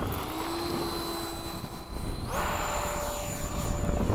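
An FMS 80mm Hawk radio-controlled electric ducted-fan jet flying at a model airfield, a steady whining engine tone that shifts pitch as it passes, moderately loud with no talk.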